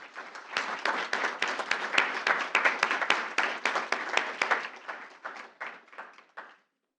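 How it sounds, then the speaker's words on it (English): A school board meeting crowd applauds with dense, steady clapping that swells, holds for several seconds, then thins out and stops. "So let's give them a round of applause."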